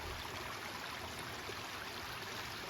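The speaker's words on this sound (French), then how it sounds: "Le bruit de l'eau qui coule." Steady, even rush of water flowing in a stream beside rice fields, continuous and moderately soft with no voices.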